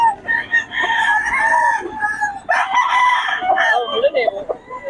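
An 11-month-old gamecock stag crows nearby in a couple of ragged, strained calls, with other fowl and faint voices in the background.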